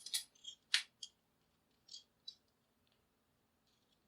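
Scissors snip wire for beaded flowers: a handful of sharp, close, separate cuts and clicks spaced across a few seconds, set against near silence.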